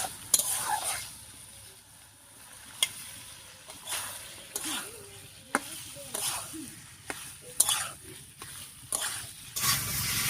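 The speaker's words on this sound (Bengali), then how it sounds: "এবার দিয়ে দিচ্ছি ভেজে রাখা পটল।" Fried pointed gourd stirred in a pan, giving a steady sizzle of hot oil with repeated scraping and clinks of a spatula against the metal, close and moderately loud.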